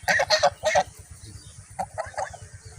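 Ducks quacking in a village rice field, several loud bursts of calls near the start, then softer, quicker calls later, with a low rhythmic pulsing underneath.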